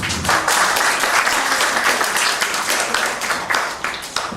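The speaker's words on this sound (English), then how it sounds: "Can we give them a round of applause, please?" An audience at an entrepreneurship talk applauds its speakers with steady, full clapping that holds throughout.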